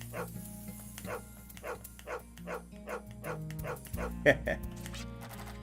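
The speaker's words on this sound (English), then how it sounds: "It's a dog." A dog barks repeatedly in the video game Wild ARMS 3, a steady series of short, evenly spaced yaps over game music, with a louder closer burst near the end.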